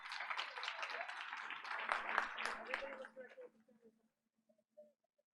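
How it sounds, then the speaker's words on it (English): Audience applause at a school board of education meeting, a moderate spell of clapping for about three seconds that fades into a few sparse claps with faint murmuring. "Let's give him a big round of applause."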